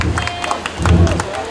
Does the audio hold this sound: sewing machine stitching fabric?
no